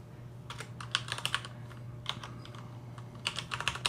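Someone types a password on a computer keyboard in a quiet room over a low electrical hum, the keystrokes landing in short, irregular bursts of crisp clicks.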